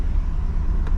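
A 1986 Mercedes-Benz 560SL engine running as the car pulls away, a steady loud low rumble heard close from inside the cabin.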